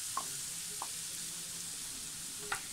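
Crushed ingredients for pepper chicken sizzle in hot oil, a steady soft hiss of frying with a few light clinks of a utensil against the pan.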